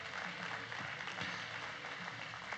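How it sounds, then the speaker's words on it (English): A crowd at a market steer show at the Cheyenne Livestock Expo gives a round of applause, a continuous, even rush of many hands clapping, heard at a distance and fairly faint. "let's give them a great big round of applause"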